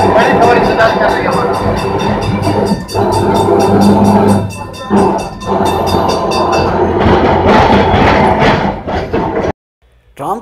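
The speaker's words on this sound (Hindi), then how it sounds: "कलकत्ता के ट्राम सिस्टम जा रहे हैं, और कलकत्ता के ट्राम का बहुत बड़ा इतिहास रहा है।" A Kolkata tram rolls along its rails with a loud, steady rumble and metallic rattle that swells and dips, then cuts out briefly near the end before resuming.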